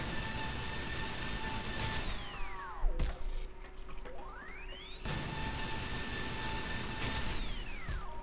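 A spooling trigger beam weapon from the Loadout video game winds up with a rising, whining tonal sweep over a steady synthetic roar, cutting out briefly and then spooling up again for a second cycle.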